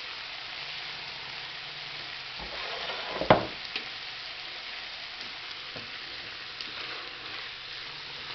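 Food sizzles steadily in a hot pan while a utensil scrapes and stirs through it, with an occasional sharp clink.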